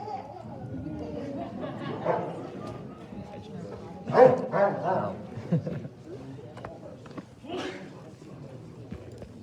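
A trained police dog at a K9 academy barks a few times amid steady crowd chatter and talking nearby, the barks mid-loud and spaced out, with a louder burst in the middle of the stretch.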